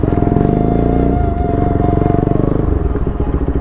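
An RS200 motorcycle idles close by on a night ride, its raw exhaust giving a loud, steady pulsing thrum with a brief throttle change midway.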